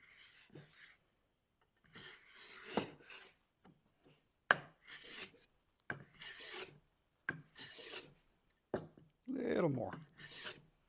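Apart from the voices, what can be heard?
Stanley No 4 hand plane planing wood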